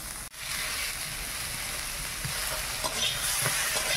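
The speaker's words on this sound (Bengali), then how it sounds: "একটু ভালো করে ভেজে নেই।" Small puti fish fry in a pan with oil, a steady close sizzle with occasional stirring scrapes, fairly bright and continuous without talk.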